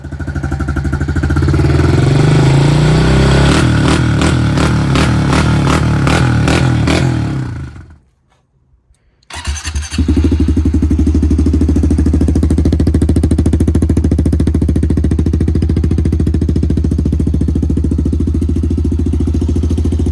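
A 2020 Honda CRF 110 dirt bike engine fitted with a cheap 39-euro aftermarket exhaust, running loud and close with a throbbing, clattery idle, cutting out briefly midway, then restarting and idling steadily again.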